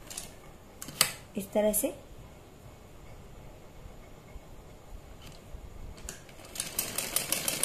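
A sewing machine stitches a piping strip along the curved back neck of a blouse, running in a few short bursts between pauses while someone talks.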